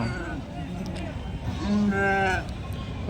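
Sheep at a busy weekly livestock market bleat nearby, with one clear drawn-out call over a crowded background of voices and animal noise.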